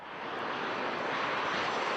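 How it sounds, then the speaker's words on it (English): A jet airliner taxiing at LaGuardia Airport after landing, a steady broadband engine roar that swells slightly and then holds loud and continuous, with no voices. "just landed planes of this size start taxiing to their arrival gates at LaGuardia Airport"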